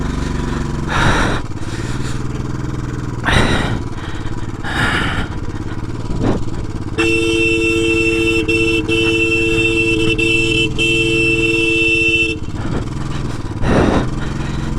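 A Himachal Pradesh transport lorry approaches and passes on a mountain road, its horn sounding in a long sustained blare for several seconds amid engine and traffic noise, with shorter honks before and after.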